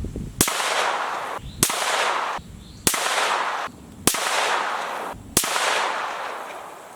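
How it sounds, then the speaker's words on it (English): Five rifle shots fired one by one at steady intervals of just over a second while zeroing a red dot sight with a magnifier, each a sharp loud crack followed by a long echoing tail outdoors. "and then shoot another 5-round group."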